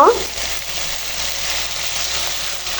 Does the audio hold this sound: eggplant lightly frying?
yes